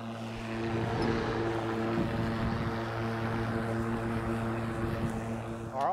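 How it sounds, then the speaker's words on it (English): A Metabo battery-powered lawn mower runs with a steady whirring drone at close range, continuous throughout. "So I've been using the Metabo battery powered mower for roughly a month and a half now."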